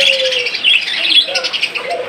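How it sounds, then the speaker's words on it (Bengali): Adult budgerigars in a bird-selling enclosure chirp and chatter constantly, a dense bright twittering flock close by with no voices. "এগুলো এডাল বাজিগির পাখি এখানে রয়েছে।"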